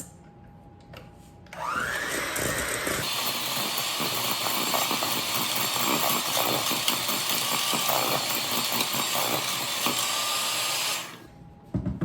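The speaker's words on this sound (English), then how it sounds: "you're gonna need a hand mixer and you're just going to mix this all together until it's creamy" Electric hand mixer creaming salted butter for a sweet potato casserole, starting after a short quiet moment with a rising whine, then running loud and steady for about nine seconds before switching off.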